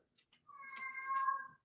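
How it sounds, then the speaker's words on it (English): A cat gives one drawn-out, clear meow that rises and holds before fading. Two faint clicks come just before it in an otherwise quiet room. "Can you guys hear that stupid cat?"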